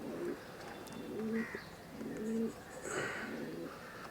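Madrasi pigeons coo softly in a repeated, low rhythmic pattern of several calls, fairly close but quiet, with faint background chirps.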